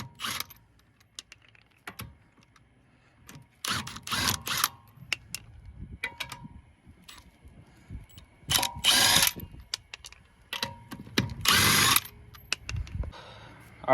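A ratchet wrench with a 19 mm socket loosens the rear wheel lug nuts on a 1998–2002 Honda Accord, in bursts of rapid close clicking separated by quiet pauses.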